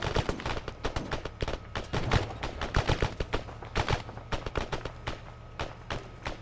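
Arma 3 gunfire in a squad firefight, dense rapid bursts of shots and cracks in an irregular automatic rhythm, loud and close with no talk over it.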